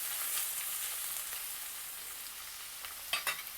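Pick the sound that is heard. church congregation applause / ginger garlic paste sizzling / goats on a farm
ginger garlic paste sizzling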